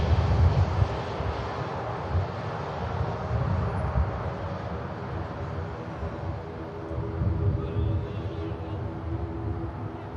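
A jet airliner at Manchester Airport gives a steady, distant engine roar with broad rumble and some wind noise, holding fairly even throughout without talk.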